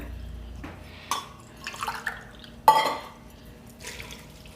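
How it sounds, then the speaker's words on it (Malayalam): Two glasses of water poured into a pressure cooker holding jackfruit pieces, heard as short splashy bursts of pouring separated by quiet gaps, fairly faint and close. "ഇതിലേക്ക് 2 ഗ്ലാസ് വെള്ളം ഒഴിച്ചു കൊടുക്കാം."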